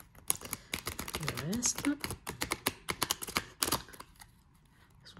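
Large tarot cards are shuffled by hand, giving a rapid run of close, crisp riffling clicks and taps that thin out near the end, while someone talks briefly over them.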